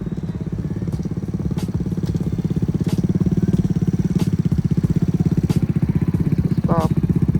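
A Kawasaki Z125 motorcycle ridden by a learner, its small engine running at a steady low putter close by with a fast regular pulse, plus brief mechanical clicks and a short whine near the end.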